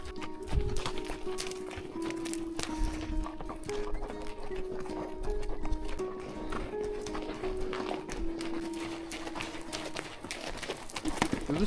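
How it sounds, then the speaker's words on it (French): Horses walk in a line along a trail in the mountains of northern Argentina, their hooves clopping in a steady overlapping rhythm close by, with some tonal jingling and faint background activity throughout. "Les chevaux se suivent, sauf celui-là là-bas."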